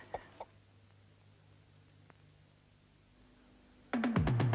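A chicken clucks in a 1983 Rowntree's mint egg television advert: two brief faint clucks at the start, then quiet, then a loud rapid series of clucks near the end.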